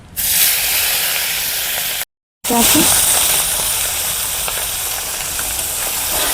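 Tengra fish fry in smoking-hot oil in a wok with a loud, close, broadband sizzle and hiss. A brief dead-silent break cuts in near the middle before the frying roar returns and slowly eases.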